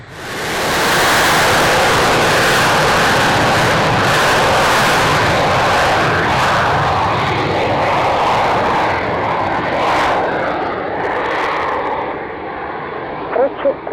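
Display aircraft Cobra 21 takes off from runway 27 at the Royal International Air Tattoo, a loud sustained engine roar that swells quickly, holds, then fades away, with a few faint clicks at the end.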